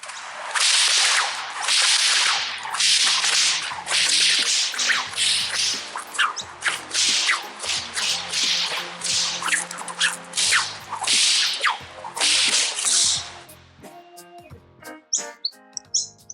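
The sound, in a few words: whip cracking demonstration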